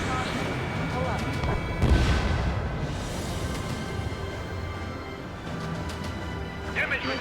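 Missile strikes and explosions in the jet combat game Ace Combat 7, dense layered booms and blasts rolling continuously, with a strong hit near two seconds, under frequent short voice callouts.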